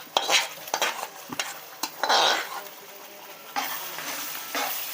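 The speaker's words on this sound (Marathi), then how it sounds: "तर आता आपण याच्यामध्ये आपली ग्रेव्ही टाकून घेणार आहोत" Gravy poured onto hot spices in a pan for paneer matar sizzles loudly and is stirred briskly, with close scraping strokes and bursts of frying hiss, and no voices.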